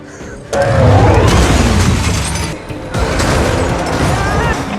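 Loud booming blasts and crashing rumble of explosions in an action film scene erupt after a brief quiet start, sustained noisy bursts continuing with a short dip midway.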